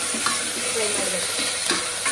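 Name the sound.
food frying in a pan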